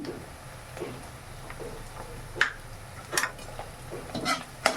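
Onions with ginger garlic paste and fresh peas sautéing in a pan, a soft steady sizzle with a few scraping stirs and light clinks of a spoon, quiet and close.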